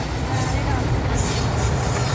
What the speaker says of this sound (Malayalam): ട്രെയിൻ പോകുന്നുണ്ട്. ട്രെയിനല്ല, ഇഞ്ചനാണ്.